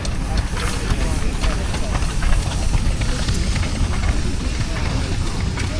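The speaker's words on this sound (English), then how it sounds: "There's the steam engine, the roadworks I had a look at earlier." A steam engine at a High Weald steam working weekend runs with a continuous hissing, rhythmic clatter, close and fairly loud, amid outdoor background noise.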